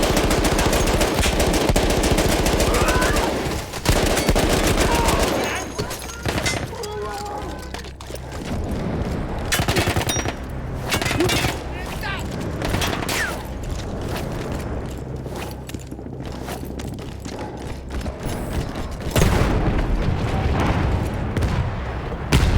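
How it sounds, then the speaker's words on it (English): Heavy gunfire and explosions in the Battlefield 1 war video game: dense machine-gun bursts and booming blasts, loud and near, running almost without pause, with a brief quieter stretch near the middle. "That explosion was one of the sweetest sights of the war for me."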